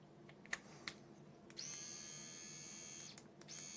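A TeethBliss women's electric shaver for face and intimate areas starts after a few clicks and runs with a steady, fairly quiet high buzz for about a second and a half, then stops and briefly restarts.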